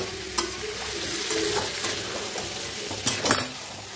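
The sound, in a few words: stirring and sautéing spice mixture in oil in a pan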